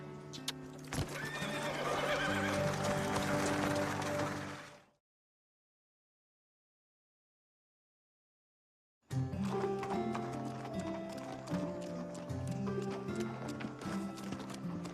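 A horse whinnies loudly over steady clip-clopping hooves, then a stretch of silence before hooves and more neighing resume.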